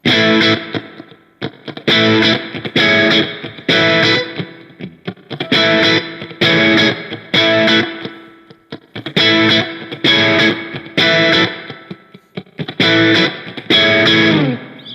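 Distorted electric guitar with chorus-like effects plays chopped chords from a song in a bouncing shuffle rhythm, steady bursts repeating with short gaps, no voices.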